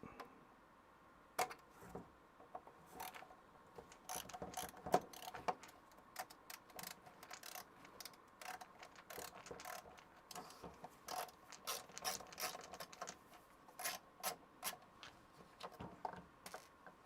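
A screwdriver works at tight screws on a Power Macintosh 6100 DOS Compatible, making a long series of quiet, close ratcheting clicks and creaks in irregular bursts.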